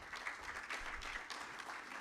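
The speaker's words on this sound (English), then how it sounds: "A round of applause to" Audience applause at an annuity plan launch event, a room of people clapping steadily with uneven bursts, moderately loud and continuous, no talking over it.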